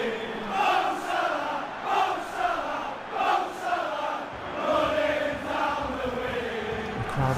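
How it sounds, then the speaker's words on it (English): A virtual football crowd in a video game chants a player's name after a dramatic late equaliser, a loud, continuous sung chant in rising and falling waves of voices with no single speaker. "The crowd is singing his name."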